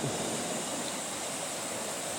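A river below the government botanical garden in Munnar rushes in a steady, dense wash of water noise, close and continuous, with no break or voices.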